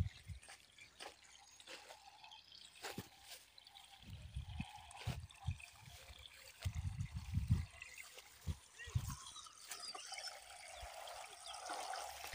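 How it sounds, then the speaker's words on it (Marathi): Water from a motor pump trickling and flowing into a sugarcane field outdoors, a steady low wash with scattered splashy bursts and thumps, fairly faint and continuous. "तर आता झाली आपली मोटर चालू, लावलं इकडे उसाला पाणी"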